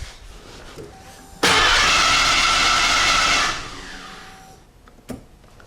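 A Ford 5.0L OHV engine in a Fox-body Ford cranks over on the starter for about two seconds, a loud steady whirring churn close by, then winds down into quiet shop ambience with a faint click.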